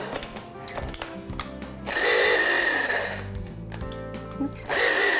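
An electric mixer or blender whirs in loud, uneven bursts as it blends a salmon and dill patty mixture, with rattling and tool-like clatter between bursts and brief pauses where the motor drops.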